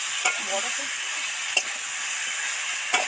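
Spices sizzle in hot oil with fried potato and tomato for a fish curry, a steady bright hiss broken by a few sharp stirring scrapes of the spoon.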